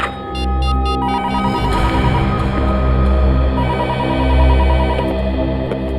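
A telephone rings in a scene from the Bengali-dubbed crime drama CID, giving loud repeated electronic ring bursts over a droning dramatic music bed. No one speaks.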